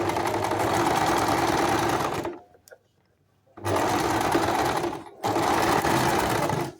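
A sewing machine stitches a lehenga zip in loud continuous bursts, running steadily, pausing briefly to near silence, then starting again twice with the same close, even mechanical whir.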